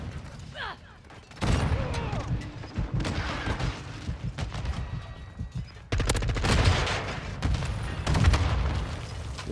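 Repeated gunfire in a shooter video game, with slug rounds, bursts of shots and a boom crackling loudly through most of the stretch after a quieter start, with no talk.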